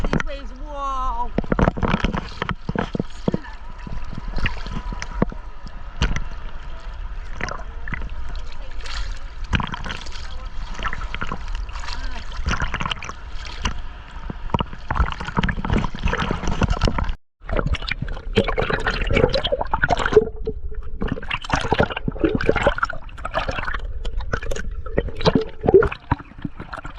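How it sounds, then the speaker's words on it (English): Ocean waves at Fort De Soto beach splash and churn close by without a break, with water sloshing around someone wading in as voices talk over the surf. "Oh yeah, I love the waves"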